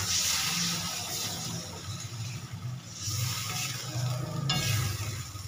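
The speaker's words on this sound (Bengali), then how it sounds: "এবার একটু সামান্য জল দিয়ে দেবো যতক্ষণ না পটলটা সিদ্ধ হয়।" Water is added to a pan of frying pointed gourd, setting off a loud continuous sizzle and hiss, with stirring sounds and a brief sharper spatter near the end.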